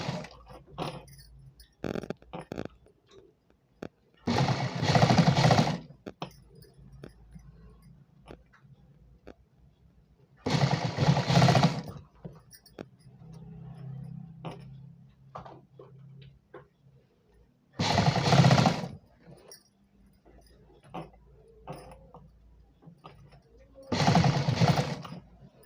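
A sewing machine stitches a petticoat in four separate bursts of steady whirring, each about two seconds long, with quiet pauses and faint ticking sounds between them.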